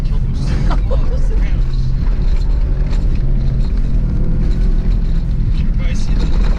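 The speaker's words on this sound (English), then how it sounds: "This might be one of the fastest vehicles I've been in off-road" Fast off-road vehicle pounding over rough, bumpy ground, a loud continuous engine and road rumble throughout with jolts and rattles layered in.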